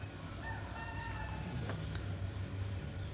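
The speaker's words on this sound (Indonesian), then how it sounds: "Ayam berkokok aja kedengaran sini nih." A rooster crows at a distance in an outdoor spot, one drawn-out call over a low rumble of passing road traffic, with no talk.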